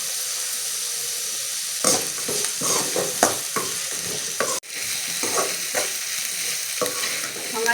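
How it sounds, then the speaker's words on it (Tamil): Onion, cumin seeds and curry leaves sauté in an oiled pan, a steady close sizzle broken by repeated scraping stirs of a spoon against the metal, with one sharp clunk midway. "இப்போ இதை நல்லா வதக்கலாம்."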